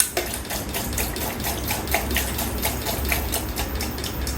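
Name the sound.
Delco Rochester wiper motor running in wash mode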